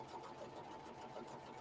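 A sewing machine stitches a buttonhole in a steady, fast, even whir, quiet and continuous with no pauses.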